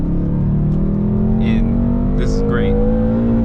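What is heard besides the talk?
BMW M5 car engine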